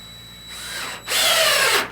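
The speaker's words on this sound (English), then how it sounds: "actually got to attach the hinge to the actual pallet itself, and for that we're using a half-inch driver" A half-inch power driver whirs as it drives a fastener through a hinge into a wooden pallet, one short burst and then a louder sustained run, close up with no voices.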